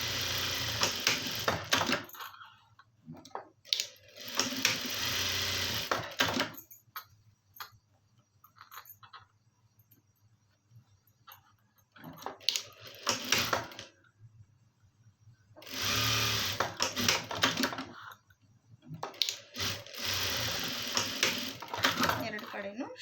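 Sewing machine stitching a shoulder joint seam on a garment, loud close whirring runs of a few seconds each that start and stop repeatedly, with a person talking between the bursts.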